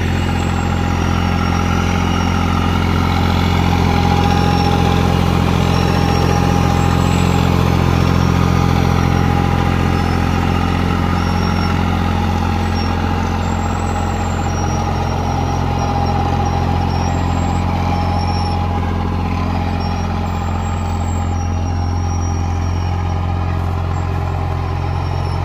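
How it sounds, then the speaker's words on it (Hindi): A New Holland 3630 Special Edition tractor engine runs at 1500 rpm in third low gear during a field trial with a super seeder, a loud, steady diesel drone with a deep, even rumble sustained throughout, close by and with no talking. "न्यू होलैंड 36 स्पेशल एडिशन और तीसरे लो के अंदर ये चल रहा है भाई, और 1500 चक्कर पे"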